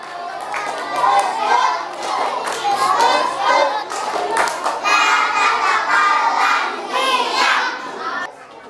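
Schoolchildren performing a rhythmic group clapping chant, with bursts of many small hands clapping in time between loud chanted children's voices, lively and close, continuing throughout.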